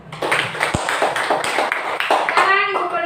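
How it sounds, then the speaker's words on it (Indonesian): A class applauds a group's report in a school lesson with a short run of sharp, fairly loud claps, while voices talk over and around them. "Kita berikan tepuk tangan."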